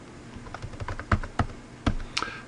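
Keystrokes on a computer keyboard while a location is typed in, a quiet, uneven run of clicks with several sharper, louder taps standing out.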